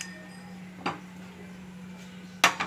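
A metal kadai is set down on a kitchen stove while chicken 65 is being prepared: two short clanks about a second and a half apart, the second sharper and louder, over a low steady hum.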